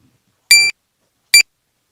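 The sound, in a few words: glockenspiel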